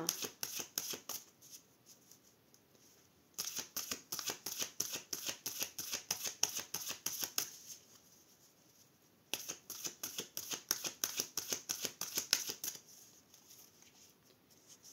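Tarot cards riffle and shuffle in rapid, crisp bursts, with two long busy stretches broken by quieter pauses; no voices are heard.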